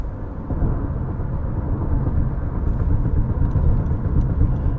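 Road noise inside a 2023 Honda HR-V LX driving in the right-hand lane as the asphalt ends: a constant loud low rumble and roar of tires, swelling slightly, with no talk.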